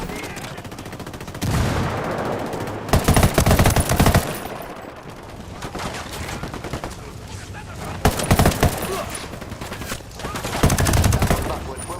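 Bursts of automatic gunfire in a Ghost Recon Wildlands firefight, loud clustered volleys with brief lulls between them over constant combat noise, with voices faintly under the shooting.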